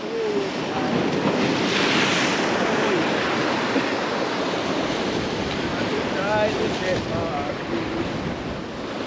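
Strong wind buffets the microphone on a rocky Jamaican shoreline in Boca, a loud continuous rush over crashing surf, with faint voices and a few chirping calls briefly in the background.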